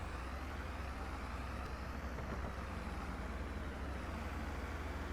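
Small white tractor in Farming Simulator 22 with its engine running, giving a continuous low rumble and even hum at close range, steady for the whole stretch without any voices.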